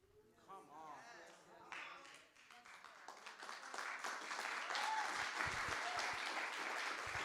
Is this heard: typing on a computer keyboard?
no